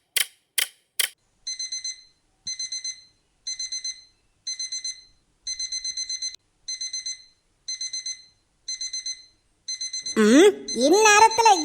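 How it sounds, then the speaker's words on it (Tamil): A cartoon alarm clock rings in repeated bursts of shrill electronic beeping. The bursts come after a few sharp clicks, then give way at the end to a cartoonish voice. "இந்நேரத்துல எவன்ட அலாரம் கடிகாரத்தை வச்சது?"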